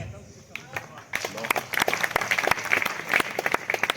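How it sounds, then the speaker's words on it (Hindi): An audience bursts into applause after a quieter opening, and the clapping builds into uneven, crackling bursts. A voice speaks over the clapping at times. "आपकी तालियां कमजोर हो गई हैं, फिर भी मैं कोशिश कर रहा हूं।"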